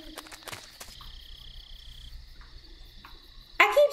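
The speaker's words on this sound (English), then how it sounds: "Why is there frogs everywhere?" Frogs croak and chirp in the jungle of the stealth game Metal Gear Solid 3: Snake Eater, a steady ambient chorus with insect-like trills, scattered footstep-like taps, and a louder burst near the end.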